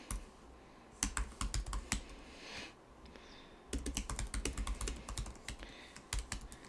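Keys on a computer keyboard clatter in quick bursts of close typing, pausing briefly between flurries, with no voices over it.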